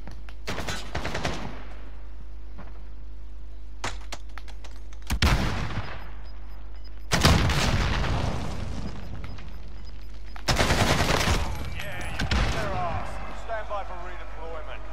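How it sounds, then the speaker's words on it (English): Loud blasts and bursts of gunfire in a video game, including a flashbang grenade explosion, arrive in separate heavy clusters over a steady low hum, with people talking at moments. "Did I kill him with a flashbang?"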